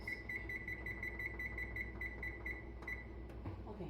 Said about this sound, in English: Set the timer for 16 minutes.